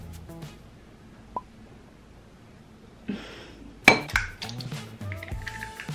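In a quiet room, a few light clinks, then a sharp crack and tapping of an egg shell on a bowl, followed by soft clattering.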